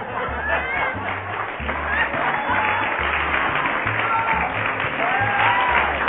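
An audience claps with steady, loud applause mixed with crowd chatter and murmuring, while a rhythmic low musical pulse runs underneath throughout.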